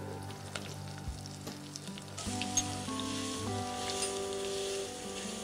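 Half a spoon of cumin seeds sizzling in hot oil with bay leaf and dried red chilli for a mango-kasundi mutton curry, a crackling sizzle that swells louder partway through, with faint background tones.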